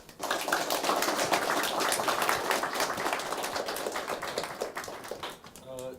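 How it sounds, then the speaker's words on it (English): Audience clapping at the close of a mathematics talk in Mumbai, a sustained burst of many hands that fades slightly toward the end, with a faint voice surfacing at the very finish. "A good round of applause for him."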